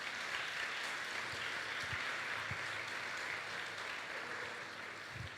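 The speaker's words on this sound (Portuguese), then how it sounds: "Irmão, você pode aplaudir ao Senhor por causa disso?" A church congregation applauds steadily at a Portuguese-language sermon on prayer, a broad continuous patter of many hands held at an even level throughout, with no voices rising above it.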